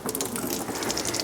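Radiator coolant pours out of a disconnected bottom hose on a car, making a close, steady gushing splash without pause over a short stretch.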